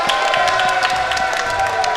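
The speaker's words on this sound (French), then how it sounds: "on fait un tonnerre d'applaudissements" A live podcast audience at PodRennes breaks into dense, sustained applause mixed with cheering, a steady wash of clapping with no gaps and a faint tonal hum beneath.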